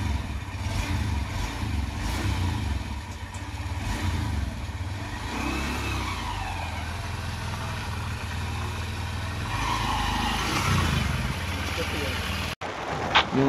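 A new motorbike hums steadily on an open road at speed, a continuous mid-range engine drone with slight swells, while someone talks over the ride.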